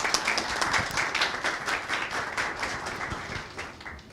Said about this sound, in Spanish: Un fuerte aplauso para la profesora.